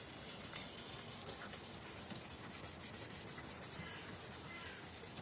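A yellowed car headlight is wet-sanded with 1500 grit sandpaper, giving a faint, continuous scratchy rubbing that stays even and close for the whole stretch.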